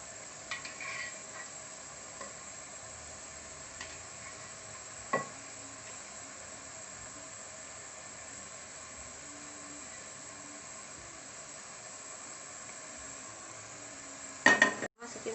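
Shallots fry in a pan with a steady, quiet sizzle, broken by a few light scrapes and clinks of a utensil stirring, then a louder clatter of pan and utensil near the end.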